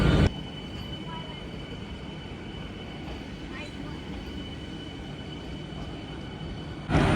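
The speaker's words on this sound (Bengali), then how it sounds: "এই প্রথম পশ্চিমবঙ্গের এসি লোকাল ট্রেন আমি চড়বো" Steady, loud rumble of an air-conditioned local train in motion on the Ranaghat–Sealdah line in West Bengal, a constant mechanical roar that holds evenly for several seconds before a brief louder burst at the end.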